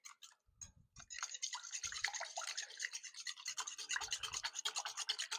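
A whisk beating eggs with salt, pepper and spices in a bowl for a crustless quiche, making a quick, close, rhythmic clicking and swishing that builds into continuous strokes, with no talking.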